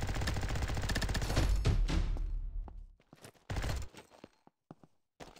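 Minigun fire in the video game Combat Master: a loud, dense stream of rapid shots for about three seconds, cutting off abruptly, followed by scattered sharper single bangs and thuds.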